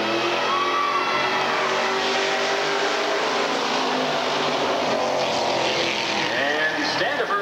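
Stock cars race bumper to bumper at Redwood Acres Raceway, a steady loud roar of engines sustained throughout with a commentator talking over it.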